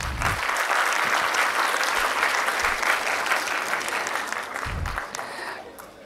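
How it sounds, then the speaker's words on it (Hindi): A seated audience at a talk by a doctor applauds loudly and continuously, dense clapping filling the room and slowly tapering toward the end. "एक बार और तालियां बजा दें"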